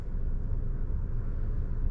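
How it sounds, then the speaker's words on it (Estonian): An Audi 1.8 TFSI Gen3 engine idles steadily, a low continuous rumble with an even, unchanging hum and no revving, no voices over it. "Auto tegelikult töötab praegu."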